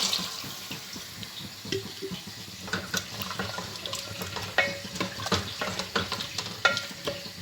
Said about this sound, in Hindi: अब हम इसमें पानी ऐड करने लगेंगे।